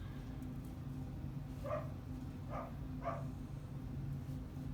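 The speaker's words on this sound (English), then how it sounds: "you probably can hear my dog back there" A dog barks a few times in the background indoors, three faint, evenly spaced yaps over a low steady hum, with no talking.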